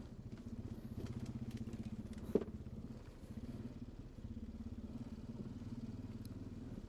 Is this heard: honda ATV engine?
yes